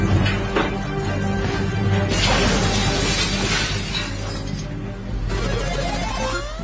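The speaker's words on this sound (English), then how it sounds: "Five sheets of glass were broken in that test." Sheets of glass shatter during a breakage test, with loud crashing bursts around two seconds and again near five seconds, over a continuous dense crackling of breaking and falling shards.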